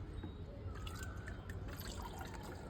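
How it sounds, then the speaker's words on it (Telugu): Water poured from a container onto potted mint and other small garden plants, a soft close trickle and splash lasting a few seconds, heard alone. "ఇంకోటి నీళ్ళు పోసేద్దాం మనం."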